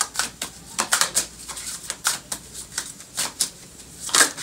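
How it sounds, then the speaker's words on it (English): Tarot cards riffle and slap together in quick, uneven bursts, a close crisp flutter of shuffling with brief pauses. "they're a little bit tricky to shuffle. Let me just do it the old-fashioned way."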